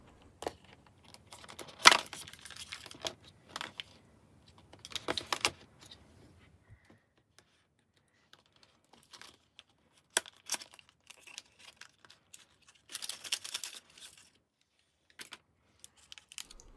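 Packaging for a VOOPOO Drag Nano 2 pod vape being opened, with crinkling, tearing and rustling bursts separated by quiet pauses, close by and moderately loud, no talking.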